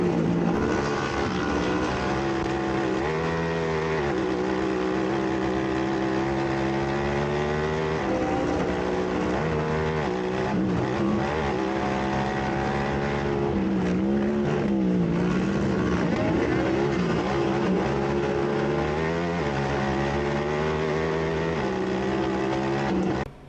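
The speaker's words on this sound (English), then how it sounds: "So a couple of Yamahas and 3 Polaris in the top 5 as they go through turn 2." Several Yamaha and Polaris off-road race vehicles roar through a turn at Crandon, engines droning loud and continuous with rising and falling revs as the pack passes close by.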